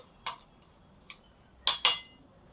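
Crushed jaggery mixed in a bowl, heard as a few sparse, sharp clinks of a spoon against the bowl, close and bright, with the last two louder and in quick succession; no talking.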